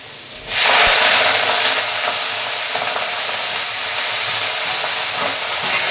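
Moringa leaves hit hot oil already seasoned with cumin, chili and asafoetida, bursting into a loud, sudden sizzle that settles into a steady, bright hiss of frying.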